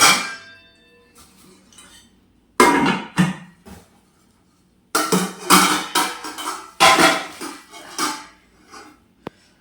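Metal cooking pots and tawas clank and clink in a few loud bursts of handling, separated by quiet pauses, close by and with no talking.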